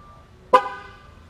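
A 2017 GMC Sierra 1500 gives one short, sharp horn honk to confirm a TPMS sensor relearn, a single clear toot that fades quickly into quiet.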